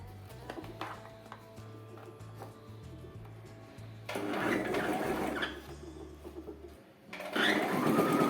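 A home sewing machine runs in bursts while stitching a child's lehenga, with a steady motor hum and needle rattle. It starts and stops, then grows louder and busier in the second half.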